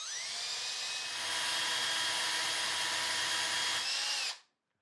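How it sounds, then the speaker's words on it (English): A power drill bores out a hole in a door, running loud and steady with a high whine for about four seconds before cutting off abruptly into silence. "I'm gonna take my drill now, and I'm gonna place it into the hole, and I'm just gonna drill it out"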